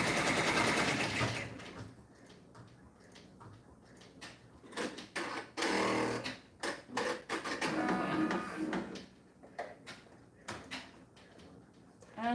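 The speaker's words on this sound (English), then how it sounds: "And let's start the sewing." Sewing machine stitching fabric for an Easter bunny lovey baby comforter, running in short uneven bursts with pauses between, a steady mechanical whir at close range.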